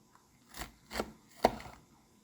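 A knife slices into an alligator carcass in three separate firm cuts, each a short, wet-edged chop spaced about half a second apart, close and moderately loud, with no talking.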